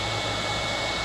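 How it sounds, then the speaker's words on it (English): A hair dryer runs close and loud with a constant whirring hiss, blowing on a leaking basement wall under repair, with no voices. "This is completely dry now here from the hairdryer running on it."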